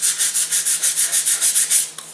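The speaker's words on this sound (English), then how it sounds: "Now you can sand these as desired. I'm going to just round off the edges." Rhythmic sanding strokes, about a dozen even back-and-forth rubs rounding off the edges of a wooden rocket glider part, close and steady, with no voices.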